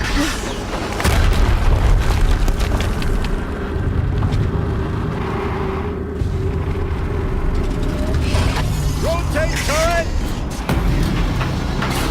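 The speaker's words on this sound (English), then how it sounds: "Another explosion." Explosions in the video game Horizon Zero Dawn produce a deep, loud rumbling boom that rolls on steadily for several seconds, with mechanical whirs and chirps layered on top.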